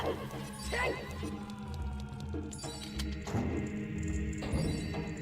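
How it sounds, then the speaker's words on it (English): A horse in the video game Zelda Ocarina of Time neighs a few times, moderately near, against a steady game music and ambience backdrop. "There is just another horse chilling by the guard."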